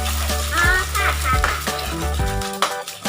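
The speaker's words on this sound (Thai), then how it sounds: "ผัดคุกๆอย่างนี้" Food stir-fried in a pan, with bright sizzling and rapid clattering scrapes of a utensil against the metal, loud and close; a voice briefly rises above it.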